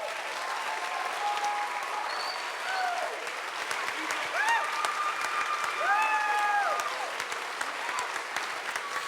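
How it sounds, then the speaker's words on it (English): An audience applauding at a live stage show in Los Angeles, dense sustained clapping with some cheering and whistles, a voice speaking over it. "let's keep that applause going"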